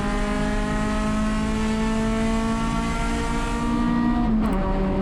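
An Acura RSX race car in a USTCC session at Sonoma Raceway drones loudly from inside the cabin, its engine holding a steady high-rpm tone with strong harmonics before a brief dip near the end as it shifts.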